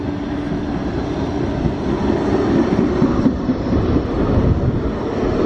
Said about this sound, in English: Ooh, hiss, horrible modern tram.